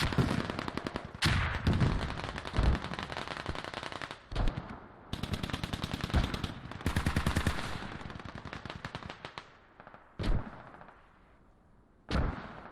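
Gunfire traded between two teams in the game Squad on the Kokan map, long loud bursts of rapid automatic fire with single shots and pauses between them, close and dense.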